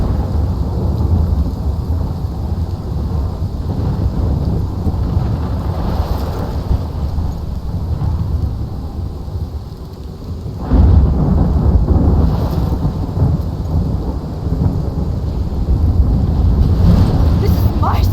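Thunderstorm in the game Life is Strange Remastered: continuous heavy rain and wind with deep rumbling thunder swelling partway through, loud and close.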